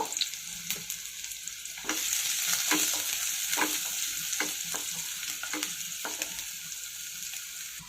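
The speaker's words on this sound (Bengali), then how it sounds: "পেঁয়াজটাকে ভেজে নেব" Chopped onion frying in a pan: a hissing sizzle swells after a couple of seconds while a spatula scrapes and taps against the pan in repeated strokes, close and without talk.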